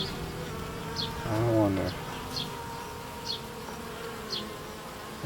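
Honey bees buzz steadily around an open hive during an inspection, a continuous close drone with a few individual bees whining past, while a person murmurs briefly over it.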